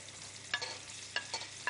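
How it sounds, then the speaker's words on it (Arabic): Onions and peppers, green and red, sautéing in a pan, with a steady soft sizzle and a few sharp clinks or scrapes of a stirring utensil at intervals, no voices. "نحطو فلفل كحل ونقلي هذه الخضره يعني حتى تدبل"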